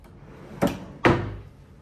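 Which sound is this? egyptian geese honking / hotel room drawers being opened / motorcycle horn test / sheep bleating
hotel room drawers being opened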